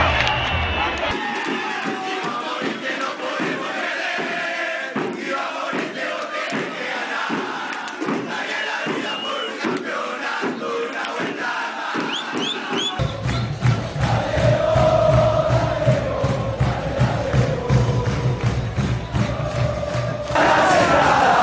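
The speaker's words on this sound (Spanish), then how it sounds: "La gente, sus gritos," A large stadium crowd roars and shouts continuously, dense chanting and yelling that swells louder midway through, loud and close throughout.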